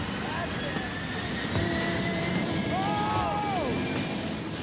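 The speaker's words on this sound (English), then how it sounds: "the jet soon reaches full throttle" A loud jet engine powering a car roars steadily at full power, with high whining tones rising and bending above the rumble.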